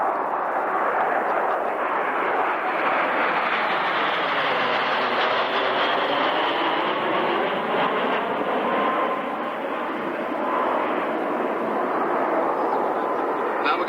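A formation of aircraft landing on the runway at an airshow, heard as a broad, continuous engine roar from a distance that stays steady throughout, with no talking.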